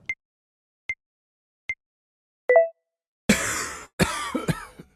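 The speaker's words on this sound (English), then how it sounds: "My cough is so weird." Two harsh, breathy coughs burst out close and loud, one right after the other, following a few short, evenly spaced electronic blips.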